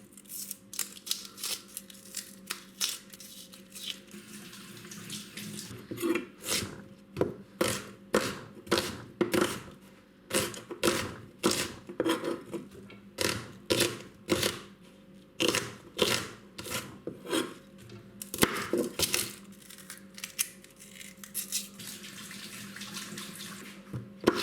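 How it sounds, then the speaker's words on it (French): Onions being chopped on a board, a quick run of sharp knife strikes in irregular bursts, close and crisp against a quiet room with no talking. "Voilà, et enfin nous découpons les oignons."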